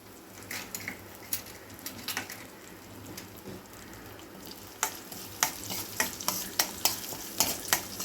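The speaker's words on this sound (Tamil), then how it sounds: "சின்ன வெங்காயம், பூண்டு, வெந்தயம், கடுகு, உளுந்தம்பருப்பு, ஜீரகம் இது சேர்த்துருக்கேன். இது நல்லா வதங்குது." Shallots, garlic, fenugreek, mustard seeds, urad dal and cumin sizzle and fry in a pan, with steady crackling and a run of sharp popping and stirring clatter that grows denser toward the end.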